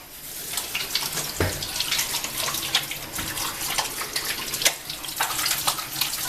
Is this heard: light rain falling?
no